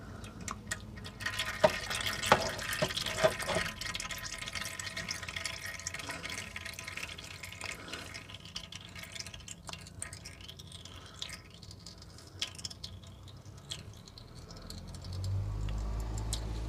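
Oil drains from the gearbox spout of a Rolls-Royce during its first gearbox service in 30 years, pouring and pattering with a steady liquid trickle and scattered drips, close and fairly quiet.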